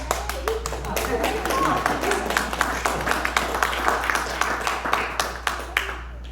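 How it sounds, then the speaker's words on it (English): Scattered audience members give a small round of clapping during a question period at a talk, with distinct individual claps in a loose, uneven rhythm that fade out near the end. "you just a little clap and that's it?"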